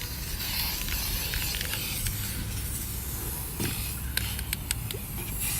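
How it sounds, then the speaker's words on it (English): An aerosol can sprays a light coat of primer in a steady broadband hiss that runs nearly the whole time, close to the listener, with a few short bursts and clicks near the end and no talking. "I'm just gonna kind of do a light coat of this primer"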